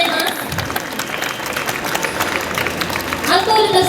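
Audience applause in a broad, steady wash after a school brass band and cheerleading squad's performance for summer Koshien baseball support, sustained throughout with a slight swell near the end.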